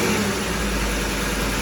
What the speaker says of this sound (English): because the engine is running and the vehicle is in two-wheel drive